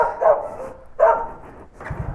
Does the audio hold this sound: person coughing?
no